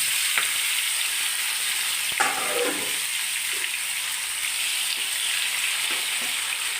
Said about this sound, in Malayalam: നമുക്ക് ഇതോട്ട് വറുത്ത് പോരാം.